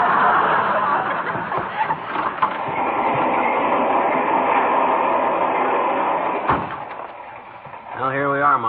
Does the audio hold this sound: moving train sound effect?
yes